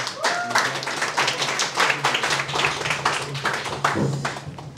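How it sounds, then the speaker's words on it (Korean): Dense, steady clapping from a crowd fills the room, a sustained wash of applause with a faint voice or two underneath. "한번 앞으로 모실 때 박수로 한번 환영 부탁드리겠습니다"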